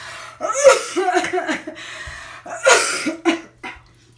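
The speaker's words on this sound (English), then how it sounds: "Got that whooping cough." A person coughs repeatedly in harsh, hacking bursts with a raspy throat sound, close and loud, in two clusters separated by a short pause.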